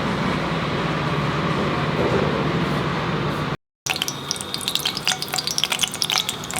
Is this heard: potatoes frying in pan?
yes